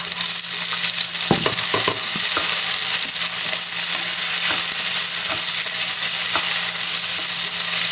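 Tomatoes frying in a pan with garlic that has browned in oil for ginisang ampalaya, a steady loud sizzle running throughout, with a few stirring scrapes and clatters near the start.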